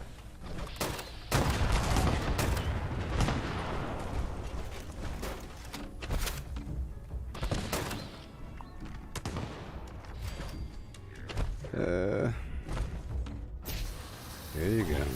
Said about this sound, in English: And they shoot behind me.